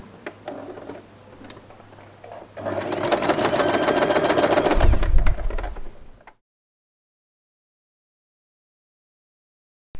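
A sewing machine stitches along the edge of a fabric pouch, a steady close whirring run of a few seconds that stops abruptly into silence.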